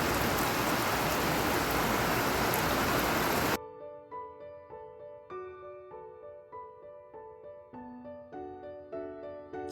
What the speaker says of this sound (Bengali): রান্না করতে করতে হঠাৎ দেখলাম মুষলধারে এমন বৃষ্টি এসেছে